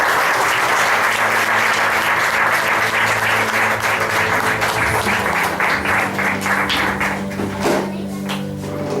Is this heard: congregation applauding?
yes